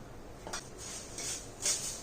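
A spoon stirs a turmeric spice mixture in a pan, making faint scraping and a few light metallic clinks over quiet background hiss.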